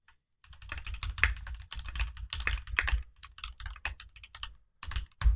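Rapid, uneven keystrokes clatter on a computer keyboard as a commit message is typed, close and crisp, with short pauses between bursts and no voices.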